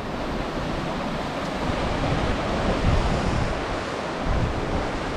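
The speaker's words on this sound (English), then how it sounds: "sometimes the high waves are getting into the pool, and it will cool down the water" Ocean waves wash continuously into a rock pool on the Tenerife coast at El Puertito, a steady close roar of surf with gusts of wind buffeting the microphone and no voices.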